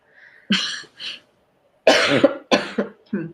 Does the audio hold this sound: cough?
yes